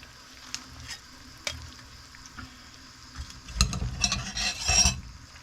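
Fish sizzles loudly in a hot pan of oil, the crackling surging into stronger bursts near the end, with occasional scraping and clinks.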